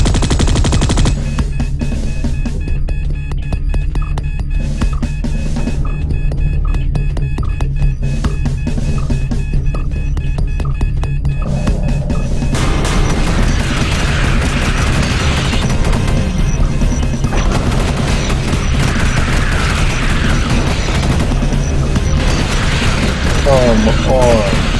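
Sentry guns blast away at swarming monsters in the sci-fi shooter Space Beast Terror Fright, a dense, unbroken stream of rapid automatic fire with heavy impacts and crashes, loud and continuous throughout.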